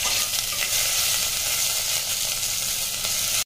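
Grated ginger and green chillies sizzling and frying in hot oil with cashews in a pan, a steady close crackling hiss that holds at full loudness, then cuts off abruptly at the end.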